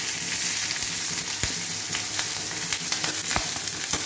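Chopped onion and green chilli frying with garlic and cumin in a pan, a steady close sizzle with occasional sharp crackles and stirring scrapes, no voices.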